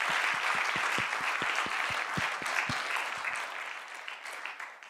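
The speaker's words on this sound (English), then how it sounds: "let's just give a round of applause" Applause from an audience at the close of a panel session on the Golden Goose Venetian shoe brand, a dense wash of clapping that starts full and slowly thins and fades over several seconds.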